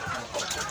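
Laying hens on a poultry farm with a flock of around 300 birds, heard as a brief burst of overlapping clucks and squawks amid steady barn noise.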